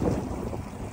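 Strong gusty wind buffets a microphone outdoors on an early-season fishing trip by the water, a loud continuous rumbling roar with no voices.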